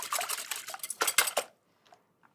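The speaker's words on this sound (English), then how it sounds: "Give that a really good whisk." Eggs being whisked with cream and a pinch of salt in a bowl for scrambled eggs, a quick run of close, bright metallic clinks and scrapes for about a second and a half, then near silence with a couple of faint taps.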